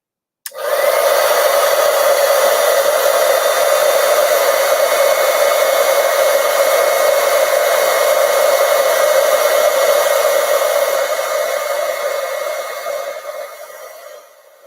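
A heat tool blows steadily to melt white embossing powder on a card, giving a loud, constant whirring hiss that switches on abruptly and runs unbroken for more than ten seconds before tapering off near the end.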